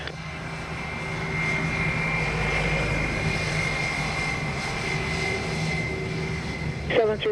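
A fixed-wing airplane roars on takeoff from runway 25 at Montego Bay, Jamaica. The steady, loud engine drone swells gradually and holds throughout, with faint voices in the background.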